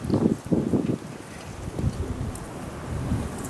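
Strong wind buffets the microphone on an open rooftop where racing pigeons fly, loud rumbling gusts at first, then a lower steady roar with more bursts.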